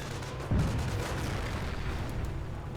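Gunfire in the WWII strategy video game Company of Heroes, a heavy boom followed by a continuous dense rumble of distant shooting and explosions on a busy battlefield.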